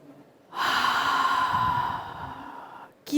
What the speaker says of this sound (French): Et vous soufflez bouche ouverte.